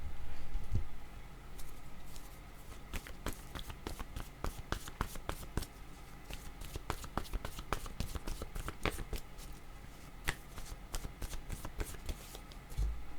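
Tarot cards are shuffled and drawn close by, giving irregular bursts of crisp riffling and sharp snapping slaps that continue across the whole stretch, with no talk.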